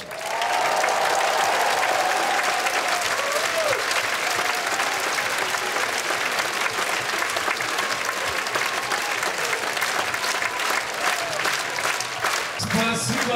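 Sustained concert-hall applause as a singer is welcomed at a televised hit-song show, loud and dense from start to finish, with a voice talking over the clapping.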